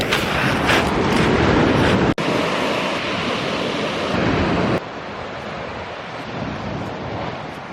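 Waves wash onto the beach at Brighton, UK, as a steady, loud broadband rush that continues throughout. Wind buffets the microphone heavily, and the sound drops briefly in level partway through.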